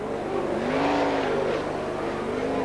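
Sprint cars race at Speedway City in Adelaide during the Australian Sprintcar Masters, a loud, continuous engine roar with rising and falling revs from several cars together.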